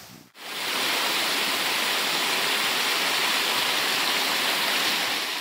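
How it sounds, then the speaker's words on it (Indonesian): River water rushes steadily beside the Joseon-era royal tombs at Gongneung in Korea: a loud, close, continuous roar of flowing water with no voices, after a brief dip right at the start. "yang terdengar cuma suara air sungai dan"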